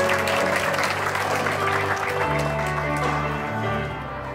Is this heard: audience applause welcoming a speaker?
yes